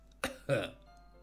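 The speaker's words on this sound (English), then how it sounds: "Narrator cough." Two short, harsh coughs close up, about a quarter second apart, followed by quiet.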